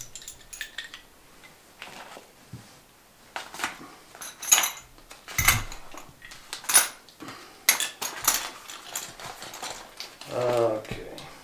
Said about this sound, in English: They give you a little pliers, the spark plug wrench.